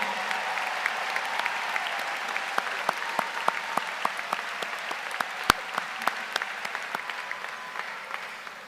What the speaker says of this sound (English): Students, join me in thanking them with a round of applause